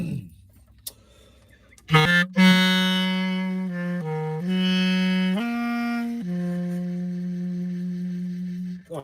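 A clarinet plays a short melodic phrase of sustained, clear notes that step up and down in pitch, entering after about two seconds of near silence and carrying on steadily and fairly loud to the end.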